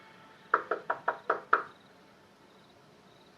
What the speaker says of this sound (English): so I just knocked really hard.